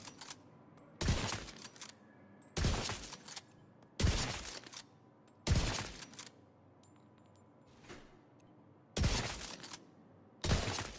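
Rifle fire in The Division 2, heard as six loud, close bursts of shots spaced one to two seconds apart, each with a short crackling tail, plus one fainter blast between them and a low hum in the gaps.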